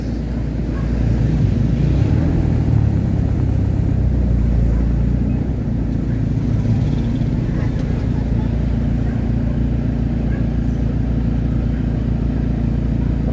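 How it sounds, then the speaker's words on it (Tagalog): Steady, loud road traffic noise from cars in a traffic jam on the way from Santa Ana, Pampanga, a continuous low engine rumble with no pauses and no voices. "Traffic lang talaga mga kusot,"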